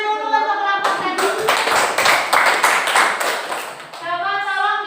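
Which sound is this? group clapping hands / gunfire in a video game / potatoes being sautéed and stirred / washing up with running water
group clapping hands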